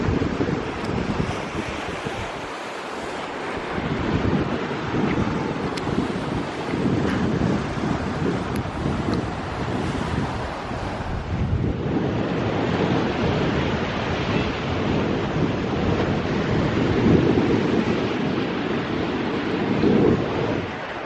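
Strong ocean breeze and crashing surf at the end of a jetty at Ponce Inlet, Florida, a loud, continuous roar of wind buffeting the microphone over rolling waves, with no talking.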